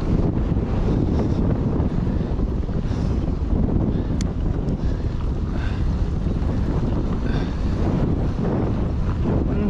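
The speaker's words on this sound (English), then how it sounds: "Ooh, I feel the wind now." Wind buffets the microphone of a mountain biker riding the Crockett Hills trails, a loud, steady rumbling roar that fills the whole clip with no pauses.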